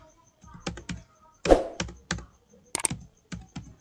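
Keys clatter on a computer keyboard as a bank account number is typed into a scholarship form, with short bursts of taps and a few louder strikes standing alone and close.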